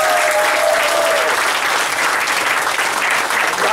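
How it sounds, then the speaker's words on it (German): Steady, dense audience applause fills the hall at a German cabaret show as the crowd claps for Fred, a continuous loud wash of many hands with no break. "Applaus für Fred."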